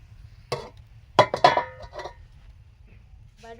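A metal lid set back down on a cooking pan while pumpkin stalks simmer with small shrimp gives a sharp clink, then a couple of rattling metallic knocks as it settles, close and fairly loud against a quiet kitchen.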